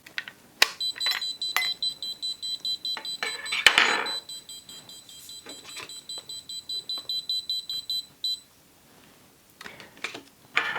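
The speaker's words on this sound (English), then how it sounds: "when removed, it will continuously beep and flash red until either the correct passcode or an NFC card is used to silence it" A SwitchBot Keypad Touch sounds its tamper alarm, a loud high-pitched electronic beeping repeating in rapid pulses up close, mixed with taps and handling clicks before it stops.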